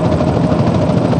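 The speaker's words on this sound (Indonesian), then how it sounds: "Ini helikopternya terus mengejar" Helicopter chasing the player in a video game, a loud, dense, continuous rotor roar with a steady chopping throb, close and alone with no voices.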